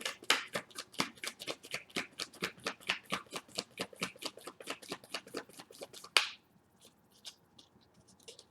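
Tarot cards are handled and laid out close by, a quick regular run of crisp flicking snaps that stops abruptly, leaving a few soft scattered taps and near silence.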